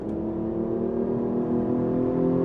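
A Hyundai Genesis Coupe's 3.8-liter V6 with an intake noise generator drones loud and close, its engine note holding steady and rising slightly in pitch and volume toward the end.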